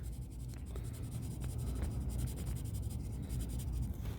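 A regular gray pencil colors on paper, a close, quiet, continuous scratchy rubbing with short repeated strokes and no talk.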